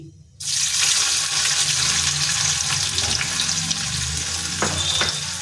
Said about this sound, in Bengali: আমরা পেঁয়াজকে ভালোভাবে একটু ভাজা করে নেবো